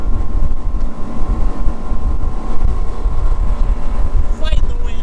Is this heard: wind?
yes